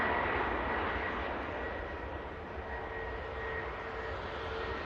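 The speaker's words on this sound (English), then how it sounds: "Taking off with the 737 MAX 8." A Sun Express Boeing 737 MAX 8 takes off at Manchester Airport, its engines a loud, steady broadband roar that holds for the full stretch with only slight swells.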